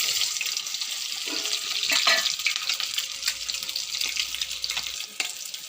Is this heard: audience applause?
no